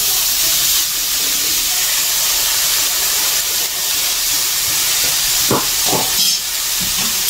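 Grated radish frying in a pan for a sweet radish semai, giving a steady, fairly loud hissing sizzle throughout with a few brief utensil scrapes near the end.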